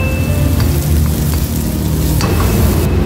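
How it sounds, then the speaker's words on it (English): Garlic and onion leeks sauté in a hot pan, giving a loud, dense hiss of sizzling that stays steady throughout with no voices. "Lagyan natin half of the garlic. Ayan, mainit na siya. Lagay natin ang half of the onion leeks."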